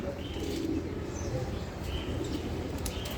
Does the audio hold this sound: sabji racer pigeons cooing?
yes